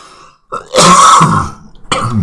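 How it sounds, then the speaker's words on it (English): A loud, close throat-clearing cough, a short pause, then another harsh cough, with no talking. "Excuse the coughing."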